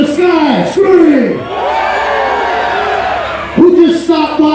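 During a set at the 2019 SOOPA Gathering, an outdoor concert crowd keeps up a continuous scream and cheer. A booming MC yells over the top in long, rising calls.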